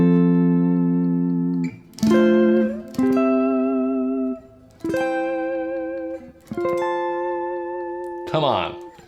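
Clean guitar chords played in root position, each strummed chord ringing out and sustaining before the next, about six in sequence, close and clear with no talk over them.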